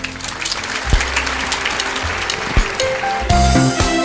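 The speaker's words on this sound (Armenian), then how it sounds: "Ձեր ծափահարությունները" Audience applause at an international women's awards ceremony, a sustained dense clapping from a crowd that swells toward the end, with faint hall tones underneath.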